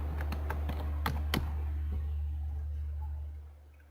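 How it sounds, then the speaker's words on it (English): A handful of close, crisp keystrokes tap on a computer keyboard while typing into a browser, over a steady low hum that fades out at the end. "So in your browser you'll type WAMP."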